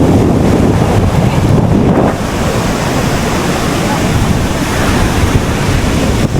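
Steady crash and wash of ocean surf on the shore, loud and continuous, with wind buffeting the microphone throughout.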